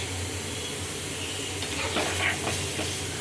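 A tamarind pickle mixture simmering in a pan, giving a soft, steady hissing bubble with a brief swell of louder sputtering near the end, quiet and without speech.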